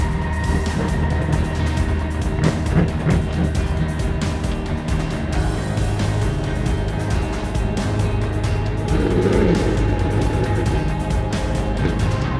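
GT1 race car in the SCCA Super Tour at Hallett roaring down the front straight as the checkered flag falls, a steady loud engine drone that swells briefly toward the end.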